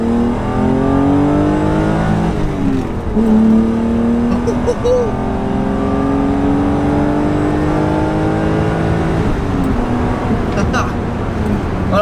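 A BMW M5 E28 sedan fitted with an M1 engine revs hard up close, its pitch climbing and falling through several strong pulls, while a man exclaims briefly over the roar.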